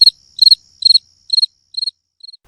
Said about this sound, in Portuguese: Respondeu-me o grilo com grande entusiasmo